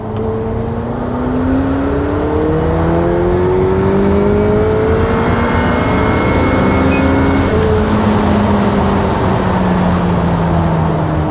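A McLaren 720S accelerates hard in fourth gear under rising turbo boost. The loud, steady engine roar climbs continuously in pitch for about eleven seconds with no talk.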